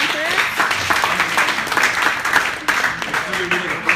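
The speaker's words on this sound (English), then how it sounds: "Let's applaud the presenters." An audience applauds presenters at a classroom group-project session, steady clapping filling the whole span with voices mixed in underneath.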